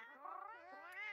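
A cat character voice in the Monster Hunter video game gives a single drawn-out, wavering meow, clear and fairly close, with no talk over it.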